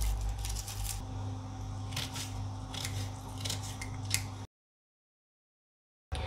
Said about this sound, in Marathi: कांदा बारीक चिरून घ्यायचा आहे.